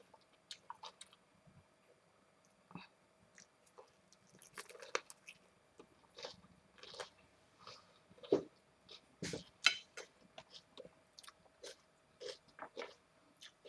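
Quiet, close chewing and biting on a lettuce leaf wrap, with irregular soft crunches and wet squishy bites spread across the whole stretch, no talking.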